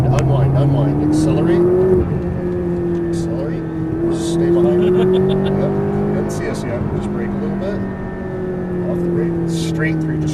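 A McLaren MP4-12C accelerates on a track, its engine note rising and holding loud and close throughout, with other engine sound behind it and someone talking over it.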